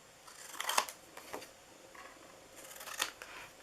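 Scissors snip through paper for a Christmas triangle box, with a few crisp cuts: a strong one early, a softer one around the middle and another near the end, each close and clear in an otherwise quiet room.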